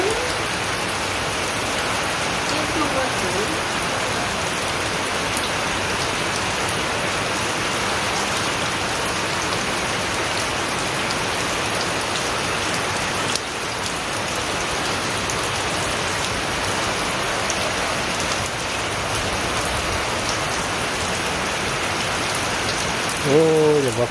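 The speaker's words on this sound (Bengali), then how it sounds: "আজকে তো সারাদিন রাত দিন সমানে বৃষ্টি শুরু হয়েছে" Heavy rain pours down continuously, a loud, dense and unbroken hiss of drops striking surfaces that holds steady from start to finish with no voices.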